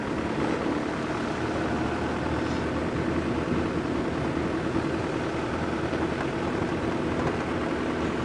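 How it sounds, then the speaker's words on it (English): A loud diesel safari vehicle idles close by with a steady, low, tractor-like rumble that holds unchanged through the whole stretch, with no talking over it. "This is a very loud diesel car, so it sounds somewhat like a tractor."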